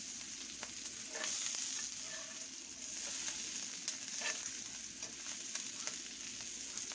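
Smoked sausage pieces and potatoes sizzle steadily in a skillet, a continuous close frying hiss with occasional stirring scrapes and small pops, no talking.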